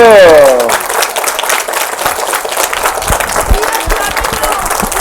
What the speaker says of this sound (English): this is a positive clap.